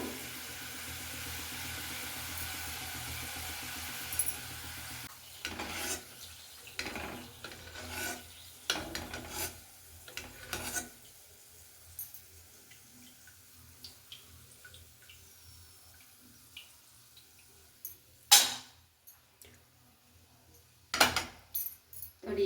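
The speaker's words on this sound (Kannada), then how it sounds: "ನೋಡಿ ಕಾಳೆಲ್ಲ ಯಾವ ರೀತಿ ಫ್ರೈ ಆಗ್ತಾ ಇದೆ ಅಂತ" Field beans (avarekalu) frying in a pan in a home kitchen, a soft rasping sizzle followed by intermittent scraping and stirring knocks, with a couple of sharper clatters near the end.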